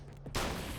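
A single hunting rifle shot goes off in the video game Alan Wake American Nightmare. It is a loud, sudden blast with a rough tail that cuts off a brief moment of quiet background.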